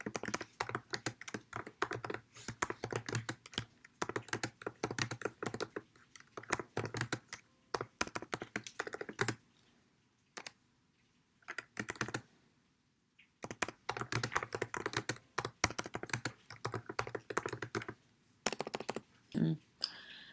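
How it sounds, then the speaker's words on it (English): Fast, continuous clattering of keys on a computer keyboard, close up, with a few brief pauses before typing resumes in quick bursts. "And then you are going to start typing."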